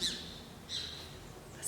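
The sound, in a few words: small bird chirping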